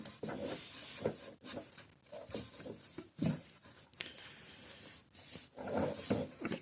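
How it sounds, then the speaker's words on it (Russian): A cloth wrapped on a hex key is pushed and twisted inside the rear suspension bushings of a Kugoo S3 scooter, giving soft close rubbing and scuffing strokes in an irregular rhythm. "мы берем шестигранник, одеваем на тряпочку его и засовываем в втулочки. И вот так вот все прочищаем."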